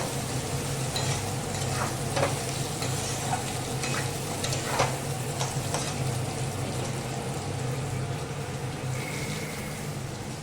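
Raw mango pieces lightly frying in a pan for a rohu fish curry, a steady close sizzle with stirring and occasional spatula clicks over a low hum, no talking.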